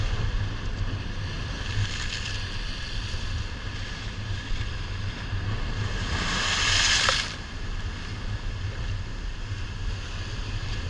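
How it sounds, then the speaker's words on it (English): Big waves churn in turbulent sea water off a small tropical island, a continuous rushing roar with a louder surging splash partway through, all under wind noise. "Careful with the big waves."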